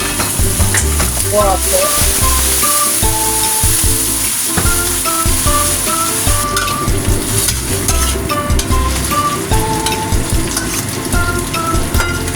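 Loud, steady sizzling of food frying in a pan with chicken powder, with stirring scrapes and clinks throughout and a brief spoken word.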